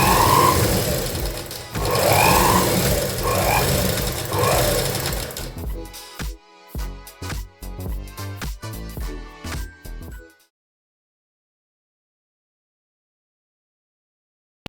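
An electric motor fitted to a manual sewing machine and run by a foot pedal stitches in loud, fast, steady bursts. It then runs in shorter start-stop spurts that slow and stop, followed by silence.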